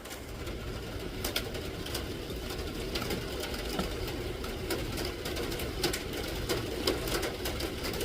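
Welding in progress, with a steady, dense crackling buzz that holds evenly for the whole stretch, sprinkled with sharp sputtering pops. The sound is close and fairly loud, and no one talks.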